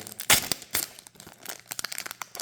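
A Pokémon card booster pack is torn open by hand, giving a sharp rip followed by quick crinkling and crackling of the foil wrapper, close up, with no speech.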